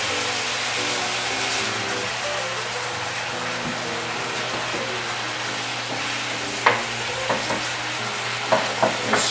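An egg frying in a pan for pad thai gives a steady, loud sizzle under a constant low hum, with a few sharp clicks of a utensil near the end.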